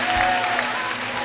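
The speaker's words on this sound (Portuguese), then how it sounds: "Aplauda ao Rei Jesus." Congregation applauding during a church worship service, a steady dense wash of many hands clapping together, loud and close, with no clear voice over it.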